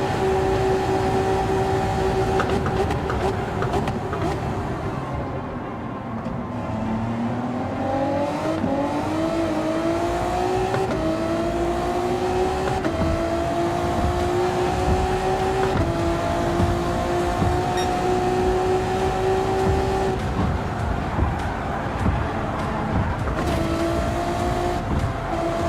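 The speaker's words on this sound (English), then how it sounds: "we're nearly on the rev limiter going through here" Race car engine droning steadily near its rev limiter in a Super GT racing video game, a loud sustained tone that dips and climbs with gear changes and holds high through a long stretch, with no talking.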